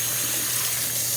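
Tap water runs steadily into a sink for washing while an Ayamase stew is being prepared, a constant close broadband rush with no talk over it.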